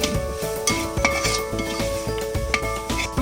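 A spoon stirs chicken masala spices in a pan, scraping and clinking against the metal in a repeated rhythm over a steady close sizzle.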